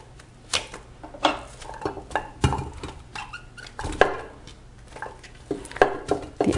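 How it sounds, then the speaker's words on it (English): Chopped onions tumbling into a 6-quart Hamilton Beach oval slow cooker pot, a series of close, soft thuds, patters and light clinks in an irregular rhythm. "Put in the onions."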